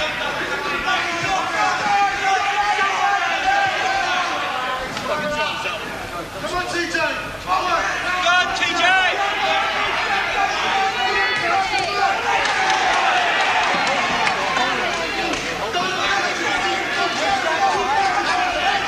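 A boxing crowd at a Southern Area championship bout in Norwich shouts encouragement, a lively, continuous hubbub of calls and chatter that briefly dips and then swells back up.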